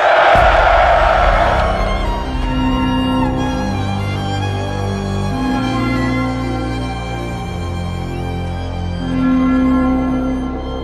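A large crowd shouts and roars at a Tudor execution, starting loud and then settling into a sustained, murmuring din under droning low tones.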